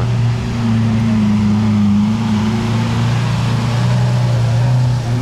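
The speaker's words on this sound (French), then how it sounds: "ce n'est pas la Tesla qui fait ce bruit là. C'est bien la magnifique Aventador SVJ juste derrière." A Lamborghini Aventador SVJ engine drones steadily nearby in Monaco, a low constant hum with no rise or fall and no voices.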